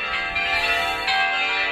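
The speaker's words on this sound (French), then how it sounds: "Maintenant qu'il y a le carillon" Church carillon bells ring out steadily in a sustained, resonant peal for Sunday mass, fairly loud and continuous, with no talking.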